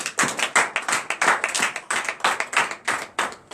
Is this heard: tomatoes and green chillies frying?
no